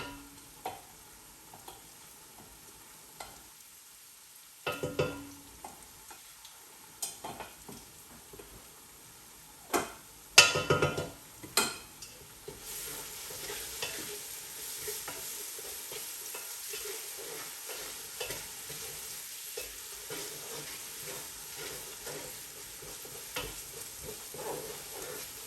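Garlic frying in a pan while being stirred, a faint sizzle broken by scattered scraping clicks and a few louder knocks of the utensil, the hiss growing steadier in the second half.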